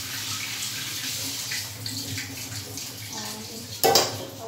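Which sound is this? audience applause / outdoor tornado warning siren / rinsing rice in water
rinsing rice in water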